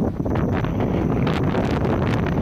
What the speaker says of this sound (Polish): Ale wyjeżdżałem, to akurat wiatru nie było. Teraz się akurat zerwał